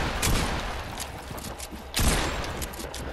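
Rapid gunfire from the video game Fortnite, dense bursts of shots cracking over a steady background, with two louder volleys standing out near the start and just past the middle.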